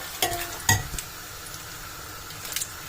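Onions fry in ghee for biryani beresta with a soft, steady sizzle, broken by a few sharp clinks and scrapes of a utensil stirring the pan early on, and no talking.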